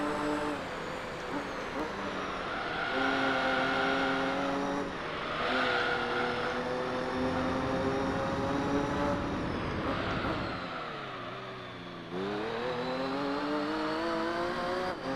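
A race car engine in Gran Turismo 3 drones loud and steady, pitch climbing through the gears, dipping sharply on a shift or braking, then rising again.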